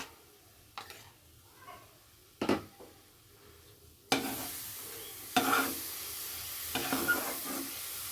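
Mango pulp mixture being stirred in a pan for a Bengali mango patishapta filling, with a few scraping strokes early on, then a louder soft sizzle and hiss of the mixture cooking, steady and close.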